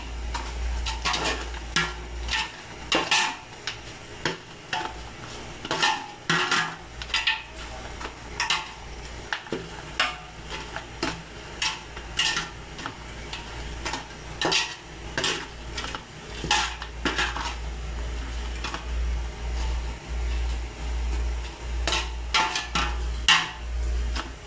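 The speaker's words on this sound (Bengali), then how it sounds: "এটার ভিতরে দিয়ে নাড়াচাড়া দিতে হবে।" Fried loitta dried fish being stirred in a pan: a steady run of loud, close metallic scrapes and clinks of a utensil against the pan over a soft sizzle, with no talking.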